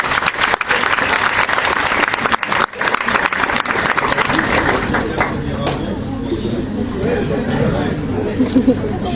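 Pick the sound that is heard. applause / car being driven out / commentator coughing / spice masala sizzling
applause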